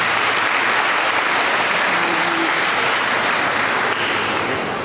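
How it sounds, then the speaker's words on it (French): Warm applause from a church audience at an Immaculate Conception feast in Port-de-Paix, dense steady clapping that fills the whole stretch at a constant level with no voices over it. "Je vous invite à les applaudir chaleureusement,"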